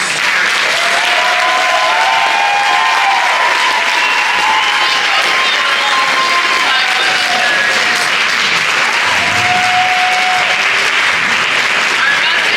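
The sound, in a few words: audience applause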